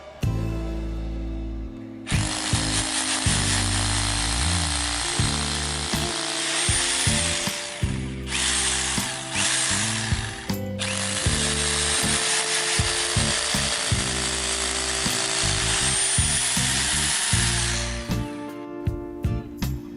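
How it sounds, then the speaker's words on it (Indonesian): Hammer drill in impact mode boring into concrete, a loud, sustained grinding and rattling roar that starts after a brief lead-in, dips briefly near the middle, then runs on steadily before stopping. "Lalu kita lihat bedanya dengan mode bore impact. Ya, jadi untuk pengoboran beton kita harus menggunakan bore impact ya."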